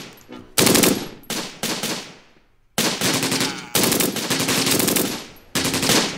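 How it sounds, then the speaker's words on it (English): Loud machine gun fire from the Close Combat war video game rips out in several long, rapid bursts separated by short pauses, with sharp close shots and no talk. "Get the SDKFC to start firing."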